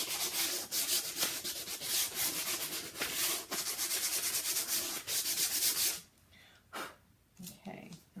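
Hand sanding of wood for a chalk craft project, a steady rhythmic rasping rub with regular strokes, close and clear, stopping abruptly partway and leaving quieter handling noises.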